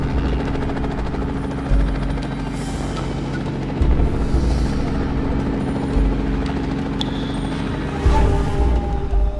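A helicopter rises from dusty ground, its rotor beating in a steady throb with periodic louder pulses, close and loud, with a continuous engine whine throughout and no voices.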